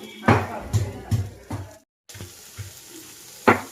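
Crushed ginger and garlic sizzling in oil and mutton fat, with a few stirring thumps and scrapes, a brief pause, then the sizzle continuing.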